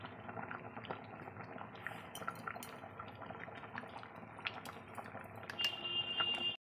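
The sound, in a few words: dal boiling with turmeric in a pot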